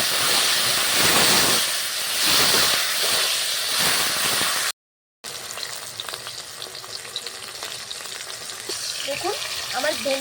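Okra (bhindi) tossed into hot oil in a home kitchen sizzles and hisses loudly and steadily, with a brief gap midway before the frying carries on under stirring noises.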